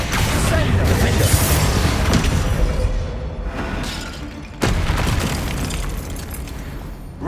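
Spell blasts and booms from Hogwarts Legacy combat, including Incendio and Bombarda casts, crackling and rumbling continuously at close range, with a sharp new burst midway and another at the end.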